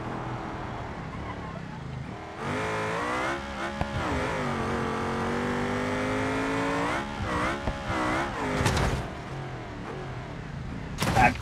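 A race car in BeamNG.drive rallycross revs and accelerates with shifting engine pitch, then cuts out into sharp bursts of impact noise as it crashes near the end.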